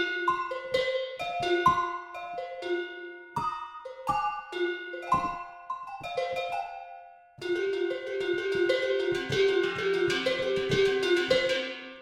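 Tuned cencerros cowbells from the VSL Synchron Percussion III sample library are struck in a quick melodic run of bright, clanking notes, then several ring together in a sustained cluster.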